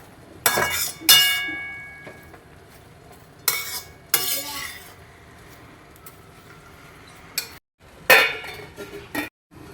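Spoon stirring carrot halwa cooking with milk in a pot, several distinct bursts of scraping and clinking separated by quieter pauses, close by and alone without talk.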